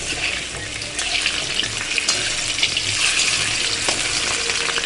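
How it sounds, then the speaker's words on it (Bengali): Okra fries in oil in a wok, giving a steady close sizzle with occasional crackles and light stirring scrapes, with no one talking. "এখন ঢেঁড়স ভাজা করছি"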